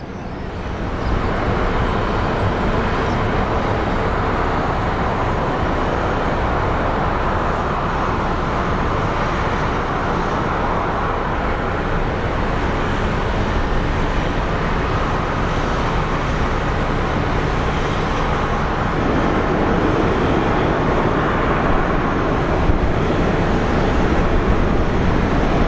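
A Frontier Airlines airliner approaches Phoenix Sky Harbor airport, its engines a steady, loud broadband roar that holds constant for the whole stretch with no voices over it.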